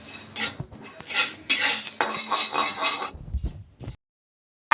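Dry-roasted spices for a mutton curry scraped and tipped from a pan onto a plate, a few seconds of close metallic scraping and clinking that stops abruptly, followed by a brief knock.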